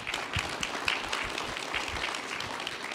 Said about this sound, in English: And if we could give it our panelists a quick round of applause.